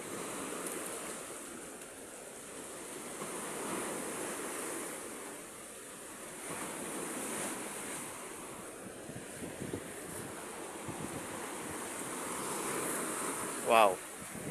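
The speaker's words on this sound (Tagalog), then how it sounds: "Malakas talaga yung alon kapag dumadaan tayo guys" Sea waves surge and wash continuously against a boat or shore, mixed with steady wind rushing across the microphone, with faint voices briefly audible.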